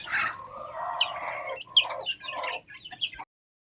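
Chickens on a farm, a mother hen with chicks, heard as close clucking and busy cackling calls in an irregular rhythm, mixed with higher chirps, ending abruptly.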